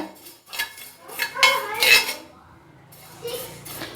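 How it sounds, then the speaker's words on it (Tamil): Sesame seeds are dry-roasted in a pan for coriander idli podi, with a spoon scraping and clinking against the metal in uneven, close bursts between quieter pauses. "அதையும் லைட்டாக பொரிய விட்டு வறுத்துக்கோங்க"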